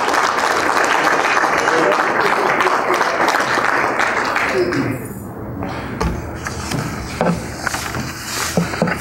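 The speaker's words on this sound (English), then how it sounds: "So if we could just give them a round of applause" Applause from the crowd at a York Capitals press event, a dense, steady burst of clapping that eases partway through and continues more thinly, with voices murmuring underneath.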